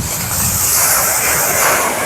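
Ocean surf on a cloudy coast roars as a continuous, loud, broad wash of sound with no break, and no voices.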